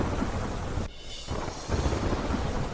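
Heavy rain pours down over flooded fields in Vadgam, Gujarat, as a dense, loud, continuous roar mixed with rumbling thunder. There is one brief dip in the noise partway through.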